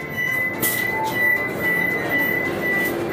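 A Vande Bharat Express rolls into Kharagpur junction on the Howrah to Puri run, heard from inside as a steady loud rumble with thin, sustained wheel squeal and faint clicks throughout.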